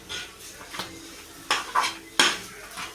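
A spoon scrapes and clanks against a pan while a potato filling for aloo paratha, topped with coriander, is mixed, giving a few sharp metallic strikes and scrapes over a faint sizzle, close up, with no talk.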